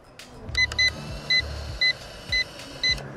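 An electric RC fishing bait boat's hopper opens from a radio button press, giving a series of about six short, clear electronic beeps. Low whirring motor sweeps run underneath against a steady outdoor hiss.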